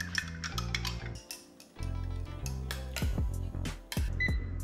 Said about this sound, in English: Let's stir this until it is fully incorporated.